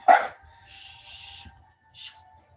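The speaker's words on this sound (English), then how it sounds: "No, please don't bark." A pet dog barks at a home fishing-lure tying bench, one sharp close bark at the start, then a short second bark about two seconds later, with quieter breathy noise between and low room rumble beneath.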